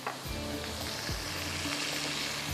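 Spices sizzle and crackle in hot cooking oil with about 50 grams of butter for Bihari boti, a steady close frying hiss with a few soft clunks, no talking.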